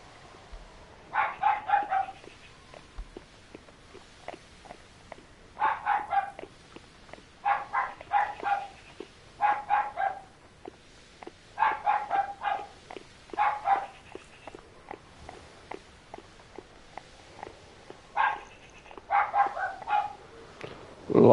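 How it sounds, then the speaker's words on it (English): A household dog barks in rapid bursts of several sharp woofs, repeating every second or two across a quiet room, moderately close and loud. "My sister's dog."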